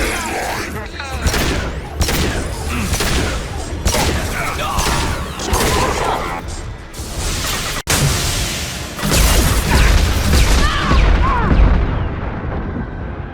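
Video game combat against an overhead heavy mech: loud, dense gunfire and booming blasts fill the whole stretch, with a sharp single crack in the middle and heavier rumbling explosions toward the end.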